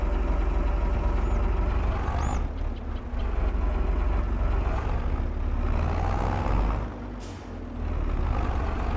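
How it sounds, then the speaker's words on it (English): A tractor engine in Farming Simulator 22 drones steadily and loudly through the whole stretch, with a heavy low rumble, a brief hissing burst near the start and a short dip and surge later on. "we're going to get the tractor back down here"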